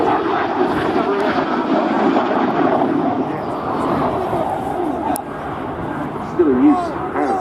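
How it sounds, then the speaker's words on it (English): French Air Force Alpha Jet trainer flying at Scampton: a broad, sustained jet-engine roar that shifts slowly in pitch as it passes, with someone talking over it. "still in use as a jet trainer with the French Air Force"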